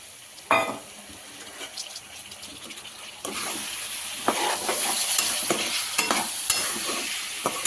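Green beans for a potato and tomato curry are stirred and fried in a pan, giving loud, continuous sizzling broken by repeated scraping strokes and sharp clanks of the utensil.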